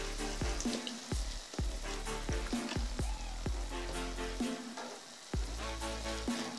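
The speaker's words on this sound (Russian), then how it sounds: "сейчас оставшаяся влага выкипит и наше мясо начнет жариться" Meat sizzles and fries steadily in hot sunflower oil, with a series of sharp clinks and knocks from a utensil striking the pan over the continuous crackle.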